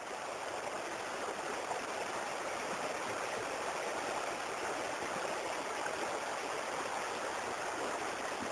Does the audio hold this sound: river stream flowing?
yes